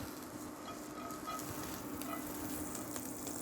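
Jalapenos sizzle and fry in a hot pan during a scallop dish demo, a steady soft crackle with occasional small pops and stirring sounds, fairly quiet and without talk.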